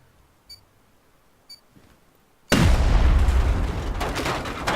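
C4 charge in the survival game Rust gives two faint beeps, then detonates in a sudden loud, close blast whose heavy rumble and debris hiss carry on for over two seconds.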